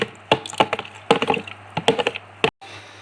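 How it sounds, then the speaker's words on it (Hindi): A spoon mixes a creamy Russian fruit salad in a bowl, making close, irregular clacks and taps in quick bursts before stopping abruptly. "मैं इसे सिंपल चम्मच की मदद से मिक्स कर रही हूँ।"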